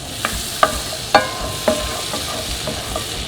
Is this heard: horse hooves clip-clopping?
no